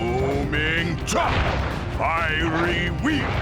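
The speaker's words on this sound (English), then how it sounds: "Booming chop!" A booming chop attack from the Sly Cooper video game lands as a heavy crashing impact, heard alongside a shouted voice calling out moves, with game sound effects and music throughout.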